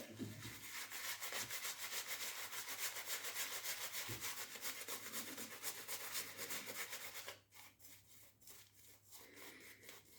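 A synthetic-fibre shaving brush works a West Man Utopia shaving soap into lather, a continuous close, bristly rubbing with steady rhythmic strokes that shifts and softens near the end, with no talking.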